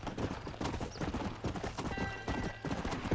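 A Red Dead Redemption horse gallops across open wilderness, hoofbeats drumming in a fast steady rhythm close up, with a faint whinny, and no talk.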